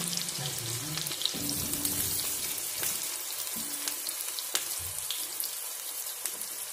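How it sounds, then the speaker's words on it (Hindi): Potatoes fry in a pan with onions and green chillies for aloo gobhi, a dense, steady sizzling hiss close by with occasional soft clinks and stirring noises, and no voices. "आलू को 2 से 3 मिनट तक जो है बिल्कुल अच्छे से फ्राई करना है।"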